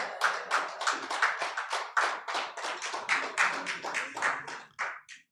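Clapping at a BusinessDay report launch on frontline health facilities in Nigeria, a run of distinct, fairly close claps in quick succession, uneven in strength and tapering off at the end.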